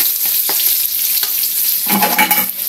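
Garlic and onions frying with meat in a pan, a steady loud sizzle with stirring scrapes throughout and a brighter burst of frying near the end; no voices.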